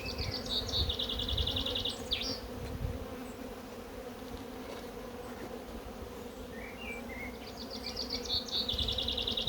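Honeybees from a weak, under-populated colony buzz around a lifted hive frame, making a soft, steady hum with a few brief higher whines drifting in and out and no talking.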